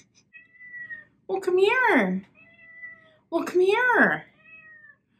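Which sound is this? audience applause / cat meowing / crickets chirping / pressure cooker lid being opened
cat meowing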